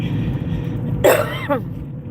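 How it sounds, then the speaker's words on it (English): A single harsh cough, followed a moment later by a smaller throat-clearing cough, close by against a low background hum. "I still got that funky cough"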